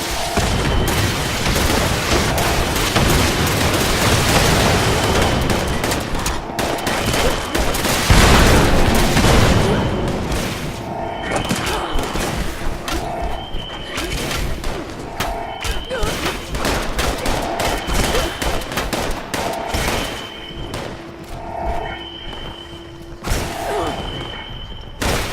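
Inbound missiles and gunfire in the Fallout 76 video game: loud booming explosions and bursts of rapid shots, dense and chaotic at first, then settling into spaced repeated blasts and beeping alerts.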